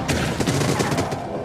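Enemy gunfire in the shooter Void Bastards, a brief rapid burst of shots crackling close and loud.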